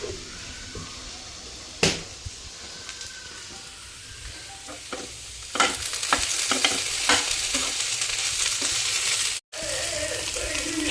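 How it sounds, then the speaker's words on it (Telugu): Okra (bhindi) fries in a pan with a constant sizzle that grows louder and busier partway through. Sharp taps and scrapes of stirring come at intervals. "బెండకాయ ఫ్రై అయిపోయిందండి."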